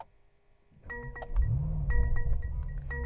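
A 2021 Mercedes-Benz E63S starts up with its exhaust valves open: a quiet whir and a few clicks, then the engine catches with a sudden deep roar that swells into a short rev and settles into a loud, rumbling idle.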